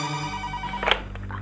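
A telephone rings close by, a steady tonal electronic ring, briefly interrupted by a sharp click.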